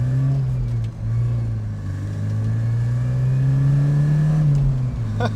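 A Porsche 944 engine runs steadily nearby, its low drone climbing slightly as it revs up and settles again.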